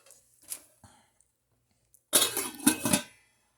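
A metal lid clatters onto a pot of mushroom onion soup, giving a short burst of close rattling clinks after a few faint knocks, then settling into quiet.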